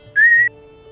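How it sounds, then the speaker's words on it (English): A single short whistle blown to call someone out of hiding, a steady high tone lasting about a third of a second, clear and fairly close over a quiet background hum. "it's a little whistle"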